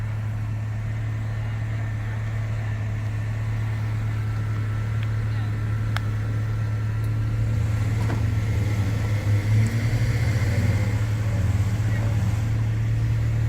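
A Jeep Gladiator JT Rubicon engine drones steadily and close, its low hum holding through the whole stretch and rising slightly as it tugs a high-centered Jeep JT off a big tire on an off-road course.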